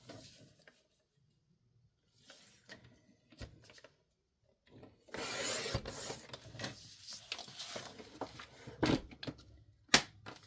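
Lined paper having its edges trimmed for a greeting card journal, faint scattered rustles first, then a louder burst of rasping cutting and handling noise with a few sharp taps, close and quiet.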